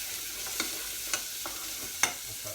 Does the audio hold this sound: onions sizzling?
yes